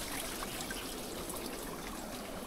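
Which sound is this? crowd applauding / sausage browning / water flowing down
water flowing down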